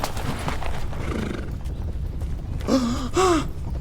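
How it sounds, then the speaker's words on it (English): Hooves clip-clop steadily in the background, then a horse whinnies twice near the end, loud and close. "They have horses."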